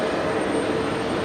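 A Velocity Boeing 737-800 departs Brisbane at night bound for Melbourne, a brief, steady jet engine rumble with a faint whine, fairly loud and without voices.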